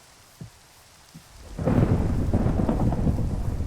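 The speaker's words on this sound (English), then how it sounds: "Oh no, it's going to thunderstorm." Minecraft thunderstorm: two faint early knocks, then a heavy rumbling thunder roll swells in and holds alongside steady rain, loud and close.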